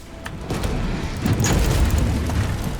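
A grenade explosion in Resident Evil 3 Remake, a loud, sustained low rumbling boom that swells and holds for a couple of seconds, close and dominant with no voices over it.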